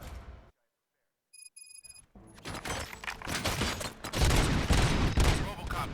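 A brief silence, a few electronic beeps, then dense rapid gunfire from the video game RoboCop: Rogue City, loud and continuous with voices mixed in.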